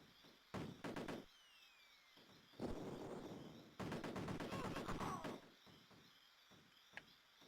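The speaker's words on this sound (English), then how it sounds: "Just hearing all the gunfire in the distance makes me a bit nervous." Gunfire in the video game Cannon Fodder Plus comes as several rapid bursts of shots separated by short lulls, with moderate loudness and no speech over it.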